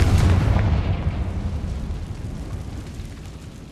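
A Confringo fire spell explodes in the Hogwarts Legacy video game, a loud booming blast at the start followed by a rumbling roar that slowly fades out.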